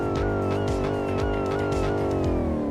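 A supercharged V8 engine of a Dodge Hellcat muscle car in a driving game roars steadily at high revs, its deep exhaust note droning loud and continuous with slight pitch wobbles.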